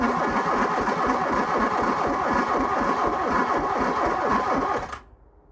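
A VW MK2 Scirocco engine that sat for 20 years cranks over on the starter, a fast rhythmic whirring chug held steadily for about five seconds before cutting off abruptly.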